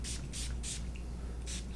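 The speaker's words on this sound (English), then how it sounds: "Spray it down, get the barrel first." Gun cleaning solution sprayed onto a single-action Taurus .357 revolver: three quick hissing bursts close together, a pause, then a fourth short spray over a low steady hum.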